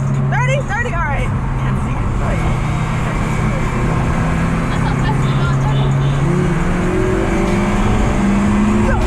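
A Honda Civic Si engine holds a loud, steady idle-to-rev drone while brake boosting before a street race, with people talking over the engine noise.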